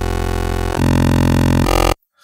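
Raw unfiltered Massive synth wavetable oscillator in bend minus plus mode, a loud sustained buzzy tone that steps in pitch twice before stopping suddenly.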